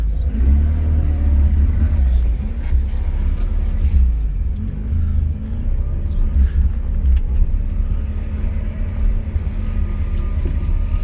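A Series 5 Mazda RX-7 rotary engine runs rough in limp mode, giving a steady, loud, low rumble with uneven pulsing that lasts throughout, with no voices.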